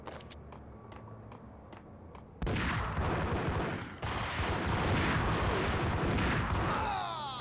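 Dense, loud bursts of shotgun and gunfire from the video game Max Payne, starting abruptly after a quieter stretch of sparse ticking and rolling on as a continuous, chaotic barrage with no talk.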